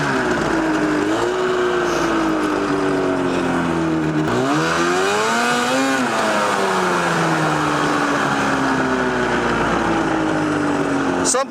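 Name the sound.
snowmobile-engine go-kart exhaust popping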